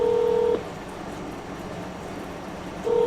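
Telephone dialing tones in the video game OneShot: a steady electronic beep, a quiet pause over faint background ambience, then a second beep, with no talking.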